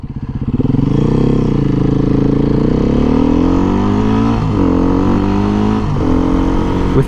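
A Beta 500cc motorcycle engine with freshly changed oil idles loud and close, then its pitch climbs and wavers as it is revved several times, with a steady throbbing tone throughout.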